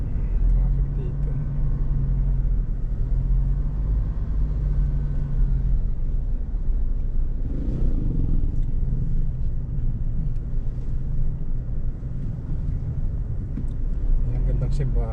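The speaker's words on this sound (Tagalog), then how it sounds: "Traffic dito." Road traffic on the way to Baler fills the scene with a constant low engine rumble and passing vehicles, heard from inside a moving car with people talking over it.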